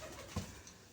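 A pigeon gives a single short, low coo, close by and fairly faint, on a farm among livestock at dawn, with soft background noise around it.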